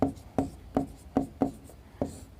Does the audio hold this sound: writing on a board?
yes